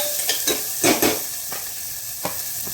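Onion and ginger hit hot oil in a tempering pan for a Gujarati vegetable preparation, producing a close, steady sizzle with a few brief bursts and light stirring clatters.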